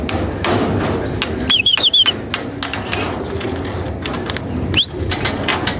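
Racing pigeons returning to their loft, with a few short chirps and a brief burst of wing flutter and light tapping over a steady outdoor background.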